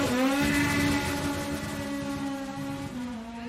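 A Norma M20B V8 racing car accelerates hard from the start of a hill climb, a loud, sustained engine roar with a strong rising harmonic tone that holds steady throughout, close to the listener and with no talk over it.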